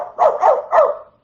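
A dog barks three times in quick succession, close and fairly loud, with short pauses between barks.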